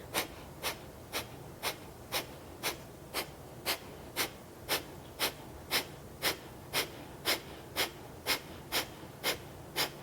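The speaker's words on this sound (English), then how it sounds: "Again, powerful exhale, pumping the belly, passive inhale." Forceful rhythmic exhales from yoga belly-pumping breathing, about twenty sharp puffs evenly spaced and close to the mic, with quiet passive inhales between and no talking.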